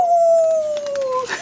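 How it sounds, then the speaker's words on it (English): A single loud, close wolf howl, one long sustained note that slowly slides downward for over a second, heard alone without talk. "I think I see a wolf. Howl, howl, howl."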